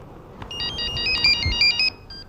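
A phone ringtone plays a quick bright electronic melody of repeated beeping tones for about a second and a half over a faint low background.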